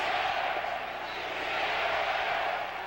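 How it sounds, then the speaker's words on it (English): Stadium crowd at a Seahawks versus 49ers Monday night NFL game chanting defense on third down, a loud, sustained roar of many voices that swells and holds. "The crowd chanting defense on 3rd and 10."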